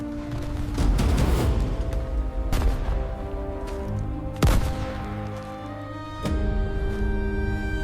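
Battle gunfire on Omaha Beach during the 1944 D-Day landings, with sharp heavy shots and booms at irregular intervals amid a dense rumbling din, some blasts close and loud.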